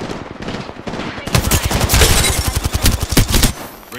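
Rapid machine gun fire in a video game, a loud dense burst of repeated shots close by lasting a few seconds before tapering off.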